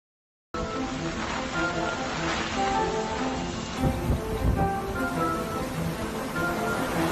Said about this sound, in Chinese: 这场千年一遇的大暴雨让多少人欲哭无泪